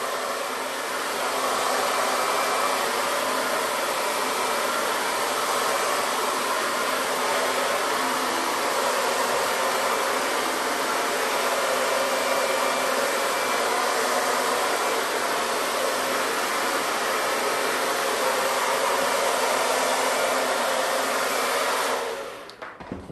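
A hair dryer blows steadily and loudly at close range for almost the whole stretch, drying hair inside a disconnected stack layered cut, then cuts off abruptly near the end.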